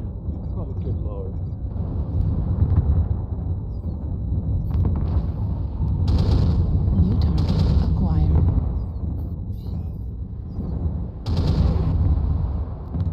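Ace of Spades artillery strike: heavy explosive blasts land in bursts amid a constant low rumble of battle, with players talking over the barrage throughout.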